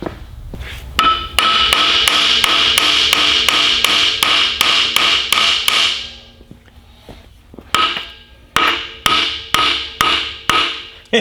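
A hammer strikes the dampener on a Detroit 12v71 diesel engine in a rapid run of about a dozen ringing metallic blows, then pauses before a second, slower volley of sharp clanging hits.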